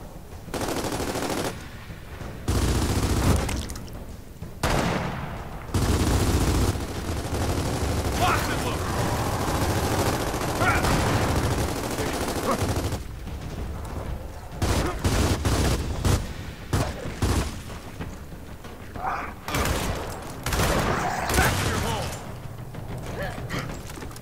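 Sniper and automatic gunfire in the Gears of War 4 video game, repeated loud bursts and volleys with thuds throughout, mixed with game voices shouting.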